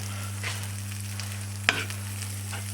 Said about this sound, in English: Let that melt nicely. Obviously don't burn the butter.